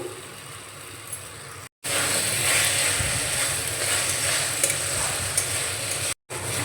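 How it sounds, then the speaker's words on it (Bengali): A semolina manchurian mixture with ginger-garlic paste and salt is stirred in a hot pan, a steady scraping and sizzling that carries on throughout, broken by two brief silent gaps. "আমি আরও 2 মিনিট মতো নাড়াচাড়া করে নিয়েছি"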